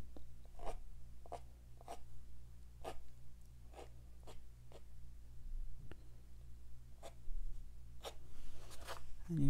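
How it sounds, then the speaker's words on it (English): A credit card scrapes damp, almost dry watercolor paint off paper in a series of short, close scratches spaced roughly half a second to a second apart, quiet and without talk. "Again, scrape. That was a nice, good one. Take off the paint. It's a credit card."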